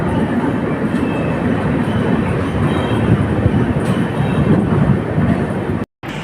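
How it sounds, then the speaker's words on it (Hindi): Sharsha Humsafar Express rolling into Muzaffarpur junction, a loud continuous rumble of wheels and carriages with a heavy roar throughout and a momentary dropout near the end. "Arriving Muzaffarpur junction on platform number 1."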